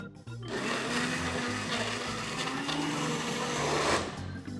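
A blender whirs steadily and loudly, blending an almond butter and honey smoothie with a continuous motor drone and churning rattle, then winding down at the end.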